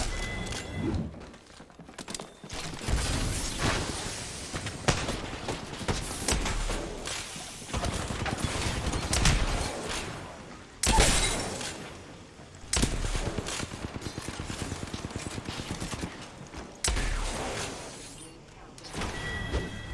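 Apex Legends gameplay fills with heavy bursts of gunfire, including Kraber sniper shots, and movement sounds in loud, dense stretches broken by a few short quieter gaps.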